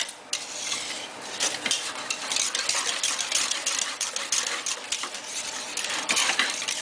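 A thickening chorizo croquette mixture being stirred in a pan, with steady clinking and scraping of a utensil against metal, close and continuous, with no talking.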